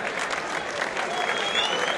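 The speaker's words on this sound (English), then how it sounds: "ladies and gentlemen, a big round of applause, please, for both fighters" A fight crowd at the Magna Centre in Sheffield applauds both fighters after a knockout, a loud, dense wall of clapping and crowd noise, with faint voices mixed in.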